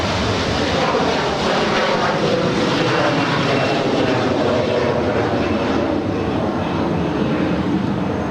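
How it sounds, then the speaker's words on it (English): Lufthansa Airbus A340-300 jet taxiing on the south side at LAX, a loud, constant broadband engine roar and rumble that holds steady throughout with no pauses, with no talk. "there on the south side is the Lufthansa A340-300 making their way to the gates"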